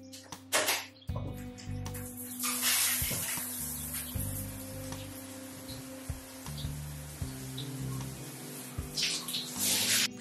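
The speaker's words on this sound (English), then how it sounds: "let's get in the shower, see what it sounds like under the water." Shower water runs and splashes in a continuous watery hiss, heard through an underwater MP3 player, with music and tones playing beneath the spray.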